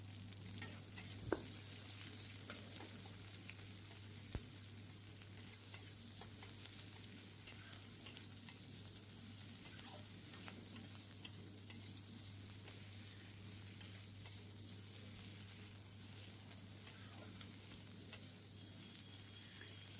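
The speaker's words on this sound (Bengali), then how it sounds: "এবার এতে আমি একটা পেঁয়াজ কুচি দিয়ে ভালো করে এগুলো আমি ভেজে নেব" Chopped onion frying with cumin seeds in hot oil, a steady close sizzle with occasional scraping stirs and small pops throughout, no voices.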